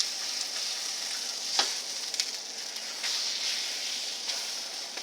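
Potato pancakes fry in a pan with a steady, close hissing sizzle and occasional faint pops and clicks.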